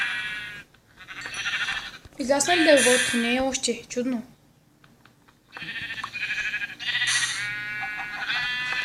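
Sheep in Minecraft Skyblock bleat in short, wavering cries that come in clusters, mixed in with two people chatting in Bulgarian.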